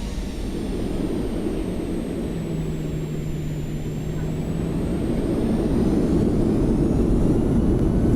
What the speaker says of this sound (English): How about some reverse thrust? You want to hear that?